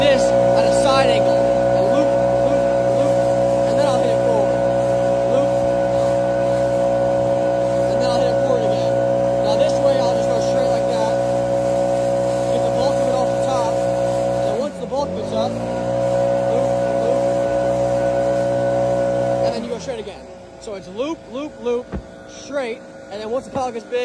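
A gas-powered leaf blower roars steadily at close range while blowing a pile of leaves, its engine drone holding for about twenty seconds with a brief dip midway before cutting off near the end.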